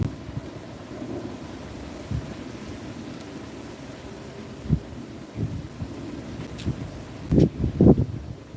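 Gusts of wind buffeting outdoors in light rain, rumbling low against the microphone with irregular louder thumps and surges, strongest toward the end.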